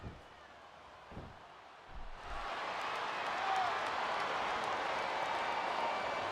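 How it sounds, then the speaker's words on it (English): A wrestling arena crowd in WWE SVR 2008 starts cheering for Jeff Hardy, a few thumps giving way to a swelling, steady roar of fans, with commentary voices underneath. "Now the fans start to cheer for him."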